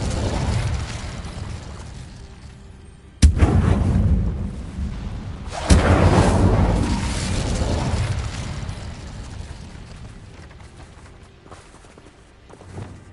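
Incendio fire spell cast in Hogwarts Legacy near a Thestral nest: two sharp, loud bursts with a rumbling, whooshing body, the second swelling and slowly fading into low ambience.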